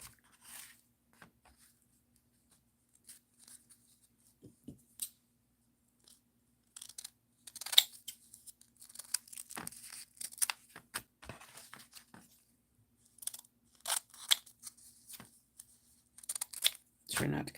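Sharp scissors cut paper for a papier-mâché project, with quiet, close snips and crunches arriving in scattered bursts separated by pauses.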